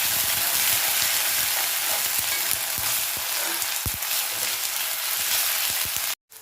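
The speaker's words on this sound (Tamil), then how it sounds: "சேர்த்துட்டு நல்லா வதக்கி விட்டுக்கலாங்க." Ginger garlic paste sautéing in a pan for chicken pepper fry, a steady dense sizzle with scattered stirring scrapes and taps throughout, close and loud, cutting off abruptly at the end.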